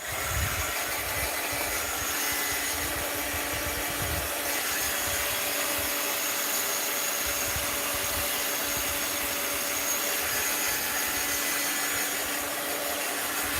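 A drying tool blows over a mixed media art journal, giving a loud, steady, close whooshing roar that runs unbroken from start to finish with no talking.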